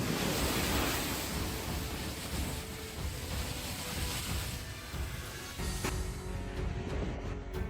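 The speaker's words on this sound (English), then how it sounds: "Strong waves crashed into the shore, creating white foam and a loud roar" Strong ocean waves roar steadily against the shore, loud and continuous, with heavy surf on a coastal road and no voices.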